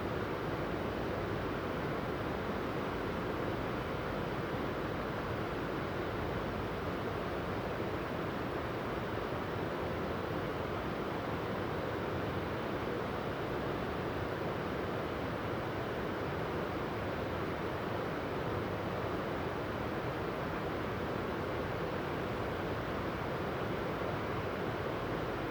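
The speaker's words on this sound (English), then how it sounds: "That waterfall is amazing, and it's just by the roadside, so maximum convenience." Slovenia's Boka waterfall, right beside a road, gives a steady, dense rushing roar of falling water that holds unbroken at an even level throughout, with no voices.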